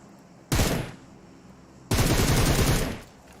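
Two bursts of automatic gunfire in PUBG Mobile, a short loud volley then a longer sustained one after a brief pause, close and harsh with no voices.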